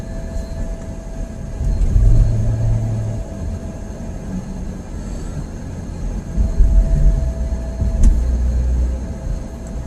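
Steady interior road noise of a car on a summer afternoon drive along Hillcrest Drive, a continuous low rumble and tire hum that swells slightly as it rolls on, with no talking.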